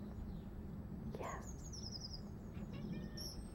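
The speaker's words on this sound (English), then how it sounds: "Hear the birds singing." Birds sing outdoors after a storm, with a few faint chirps and short whistled phrases drifting over a steady background hiss, distant and soft.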